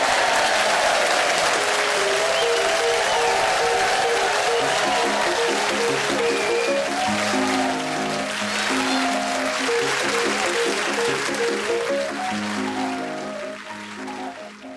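A studio audience at a comedy panel game applauds loudly and steadily, with warm sustained clapping and a few cheers that fade slightly near the end.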